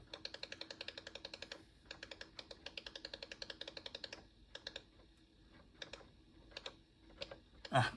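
Cursor keys pressed on a Pravetz 8D, a Bulgarian home computer, first as a fast even run of clicky keystrokes, then as scattered bursts and single presses with pauses between, ending in a louder clunk.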